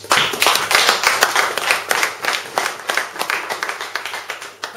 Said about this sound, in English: Come on, let's clap for Jesus